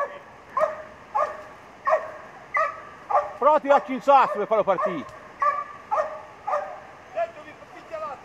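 Hunting dogs bark and yip repeatedly during a wild boar hunt, a run of sharp yelps clustering in the middle, while someone talks nearby.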